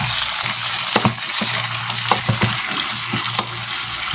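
Shrimp drop into a pan of sautéing garlic, onion and tomato for a Filipino mixed-vegetable dish, with steady close sizzling and several sharp stirring clatters from a utensil.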